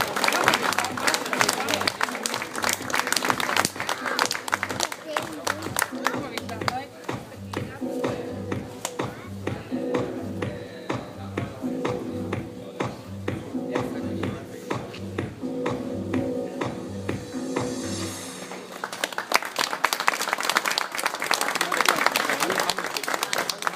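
Audience clapping at a local fashion show, steady broadband applause throughout with music and talk mixed in, swelling again near the end after a brief lull.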